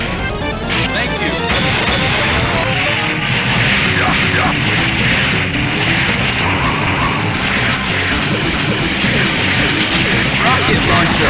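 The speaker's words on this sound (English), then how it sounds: "Rocket" Rocket launcher explosions from the arcade run-and-gun game Metal Slug keep crashing and booming densely and loudly throughout, layered with game sound effects and music.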